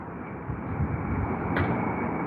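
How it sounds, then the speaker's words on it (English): A China Southern Boeing 787 Dreamliner arriving at Heathrow makes a steady broadband engine roar that swells slightly, heard from a distance with no speech over it. "Another China Southern arrival, folks."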